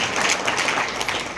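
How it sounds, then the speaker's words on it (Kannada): A crowd at a preparatory meeting for a Dasara religious gathering claps in a brief, dense and steady wash of applause. "ಚಪ್ಪಾಳೆ ಮೂಲಕ ಅವರಿಗೆ ಅಭಿನಂದನೆ ಸಲ್ಲಿಸ್ತೇವೆ"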